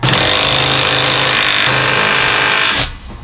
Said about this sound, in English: on the hammer function, we should be able to drive a nail in